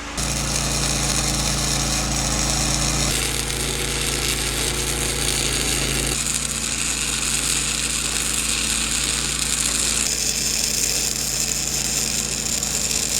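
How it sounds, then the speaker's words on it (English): Welding axle saddles onto a camper trailer's running gear: a continuous harsh crackling buzz that runs unbroken, changing character in several long sections, close and fairly loud with no talking. "Saddles are tacked, let's weld them on."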